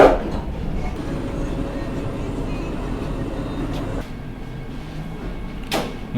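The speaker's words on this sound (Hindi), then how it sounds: "भाई एक्सलेशन देखना आप वंदे भारत का, क्या ज़बरदस्त एक्सलेशन है" A Vande Bharat Express train accelerating out of a station, a steady rumbling roll of wheels and carriage noise heard from inside, moderately loud and continuous, with a brief shift in tone partway through.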